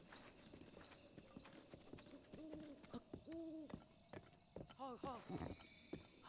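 Hooves clip-clopping as a horse moves in The Legend of Zelda: Breath of the Wild, a faint, steady trot mixed with soft game hoots and bird calls, while a person talks over it.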